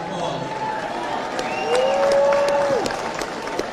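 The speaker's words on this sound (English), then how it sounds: "Let's give everybody a round of applause." A crowd at a political victory party claps and cheers in a sustained burst of applause, swelling slightly midway, with a whistle-like tone and scattered voices mixed in.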